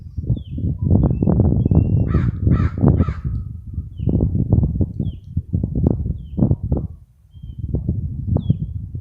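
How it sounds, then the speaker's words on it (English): Crows caw several times in the distance at Willow Springs Lake, short harsh calls scattered over a steady low rumble of talking and movement nearby. "And if you hear the calling in the back, that's the crows."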